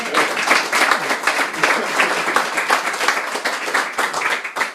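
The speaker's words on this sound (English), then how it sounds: "So a round of applause for these guys that had the vision to do this." An audience bursts into loud, steady applause, dense clapping from many hands continuing for several seconds with no talking.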